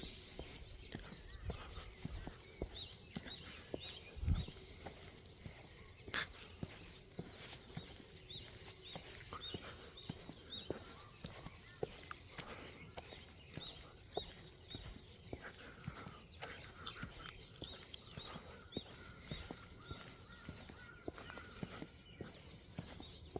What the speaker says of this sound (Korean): 이 새소리가 새소리가 참 좋습니다.